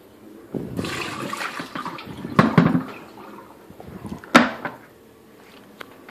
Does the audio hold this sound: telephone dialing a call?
no